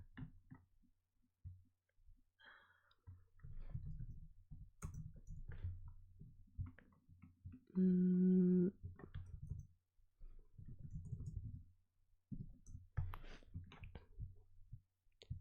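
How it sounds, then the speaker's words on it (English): Keyboard typing during a tabletop game session, heard as scattered soft clicks and taps in uneven bursts close by, with a louder tonal sound in the middle and quiet background voices at times. "I'm just typing up everyone's roles."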